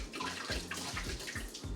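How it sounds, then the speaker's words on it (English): Hot water dumped out of glass bottles into a sink, a quick run of about five gurgling glugs and splashes in steady rhythm, close and fairly quiet, with no voices. "I'm gonna go ahead and just dump the water out into the sink."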